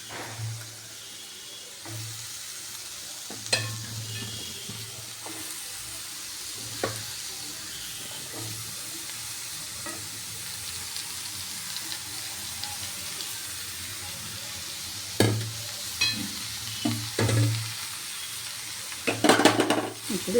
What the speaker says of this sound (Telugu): ఇప్పుడు వీటిలోకి ఆనపకాయ ముక్కలు వేసుకుంటున్నాను.